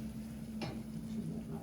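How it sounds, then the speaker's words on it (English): Onions sizzling in a pan for Napoli sauce, a faint steady frying crackle under a low hum, with one brief sharp clink of a utensil stirring near the middle. "You can hear the nice sizzle of the onions,"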